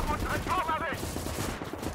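Maxim machine gun fire in the World War II video game Gates of Hell, a dense, steady rattle of rapid shots filling the scene along with battle noise and faint voices.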